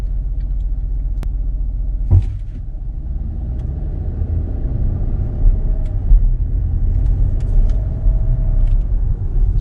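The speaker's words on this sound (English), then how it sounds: "So here we'll pull up here to parallel park." Engine rumble and road noise from a 2019 Porsche Cayenne SUV pulling up slowly to parallel park, a steady low drone heard from inside the cabin, with a soft thump or two and no talking.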